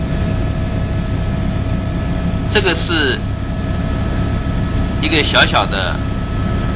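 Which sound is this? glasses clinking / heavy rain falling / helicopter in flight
helicopter in flight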